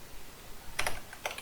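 Brief burst of computer keyboard typing, a few quick keystrokes clustered together with a second short flurry after a pause, close and fairly quiet with no talking.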